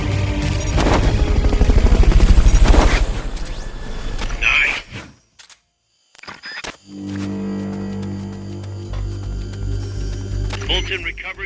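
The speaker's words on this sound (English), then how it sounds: "Fulton recovery subject confirmed onboard helicopter." Fulton recovery extraction in Metal Gear Solid Peace Walker: loud mechanical whooshing and a rising rush, then a brief silent gap before a helicopter's droning hum returns with game sound effects.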